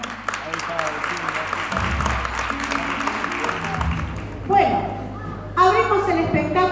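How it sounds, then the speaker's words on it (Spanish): Audience applause at a folklore performance night at the Centro Cultural Esther Fadul in Ushuaia, a steady wash of clapping with music underneath, then a speaking voice rises over it near the end. "Le damos un aplauso"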